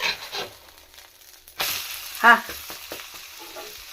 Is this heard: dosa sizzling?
yes